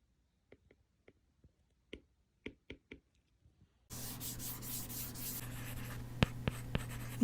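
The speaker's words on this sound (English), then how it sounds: "it gives you a paper-like sensation when you write on your iPad" A stylus writes on an Apple iPad fitted with a Paperlike matte screen protector. A few short, quiet scratching taps come first, then a steadier, louder rubbing stroke runs across the surface.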